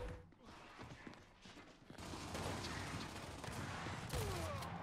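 Gunfire in the Gears 5 video game: scattered shots and a rattling burst of fire, with the dense noise growing louder and more continuous midway through.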